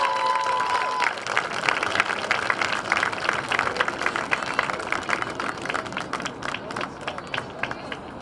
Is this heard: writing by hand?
no